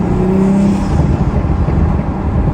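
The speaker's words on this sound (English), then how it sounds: "You can hear the turbo spool and the blow-off." An Audi RS5 fitted with a 034Motorsport carbon fiber intake revs hard and close, a loud sustained engine roar with a whirring turbo edge, and no voices.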